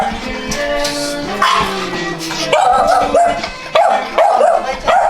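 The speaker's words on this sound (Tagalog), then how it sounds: "So ito yung mga aso nito." Several dogs at a home in Cavite, Philippines barking and yipping in quick, overlapping bursts, loud and close, with whimpers between the barks.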